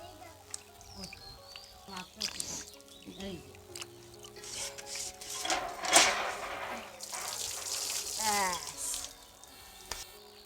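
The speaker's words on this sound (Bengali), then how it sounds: "এই যে চাল কুমড়োটা একটু ধুয়ে নিচ্ছি" An ash gourd is rinsed under running tap water, making a soft, uneven splashing and trickling that rises in the middle of the clip, with someone speaking over it.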